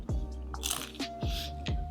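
Someone bites into crunchy chips several times at close range. Each bite gives a sharp crunch, followed by brief chewing between bites.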